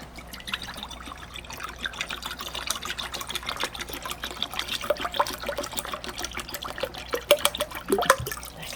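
Soy sauce poured into a bowl with sugar for pickled perilla leaves, a steady close liquid trickle and splash that runs continuously, with no talking.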